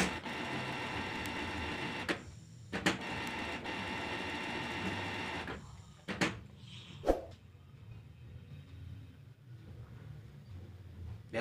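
A Canon Pixma G1010 inkjet printer powers up with a loud mechanical whirring and clattering cycle, broken by a few sharp clicks and knocks, then settles into quieter hums and faint mechanism noises.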